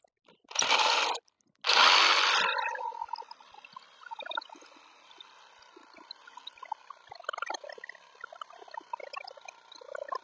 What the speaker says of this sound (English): It takes forever to go down through that, especially when you got a crosscut blade on trying to do a rip cut.